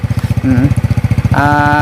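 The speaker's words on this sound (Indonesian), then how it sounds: "supaya teman-teman tahu bagaimana Cahaya membawa motor sendirian" A motorcycle ridden by Cahaya, a learner going at a modest pace, its engine chugging in a steady rhythmic pulse close by, with a voice briefly talking over it and the engine note rising near the end.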